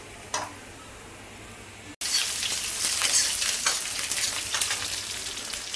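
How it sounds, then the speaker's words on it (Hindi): Chopped onion goes into a hot pan already holding cumin and starts frying, a sudden burst of loud sizzling that then holds steady and crackly, close by, with no talk over it. "और अब डाल देती हूँ मैं प्याज।"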